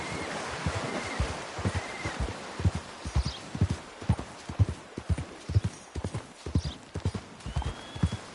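Horse hooves in Red Dead Redemption 2 thudding in a steady, close galloping rhythm over outdoor ambience, with brief calls in the background.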